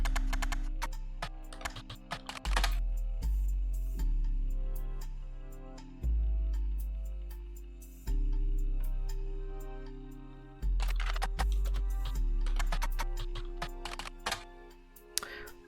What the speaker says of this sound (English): I don't know if I like these typing noises.